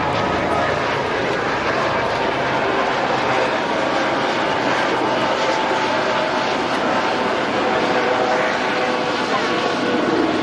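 A Panther military helicopter at an air show, its engine and rotors roaring steadily and loudly throughout, with a narrator talking over the dense, constant drone.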